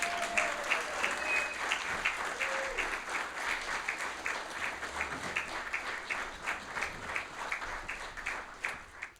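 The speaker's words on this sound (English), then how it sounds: "Please give her a round of applause." Steady applause from a room of people at a Memorial Day breakfast, a sustained patter of many hands clapping at moderate distance.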